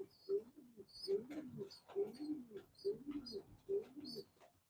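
Young second-round pigeons in a loft coo repeatedly in soft, rhythmic bursts, several calls overlapping close by, with faint higher chirps scattered among them.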